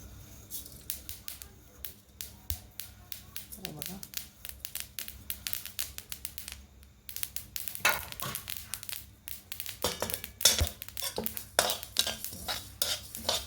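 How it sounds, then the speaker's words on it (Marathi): Sesame seeds being dry-roasted and stirred in a pan, a steady scratchy scraping and rustling with spoon clicks on the metal, growing busier and louder toward the end, close and alone. "तर आपण आता तीळ भाजून घेऊया याच्यानंतर सगळे छान खरपूस असं भाजून घेऊया"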